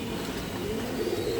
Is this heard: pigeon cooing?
yes